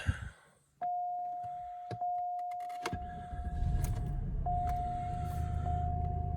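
A 2000 Cadillac DeVille limousine starts up: a steady chime tone and keys rattle, then the starter cranks and the engine catches into a low, even idle that continues to the end.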